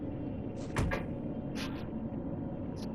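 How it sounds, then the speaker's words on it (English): A door thuds shut over a steady ambient hum in the horror video game Fatal Frame V: Maiden of Black Water, with a brief knock and a couple of faint hissy noises around it. "Oh yeah, that door closes."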